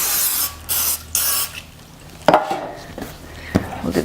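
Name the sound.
cooking spray on bread pan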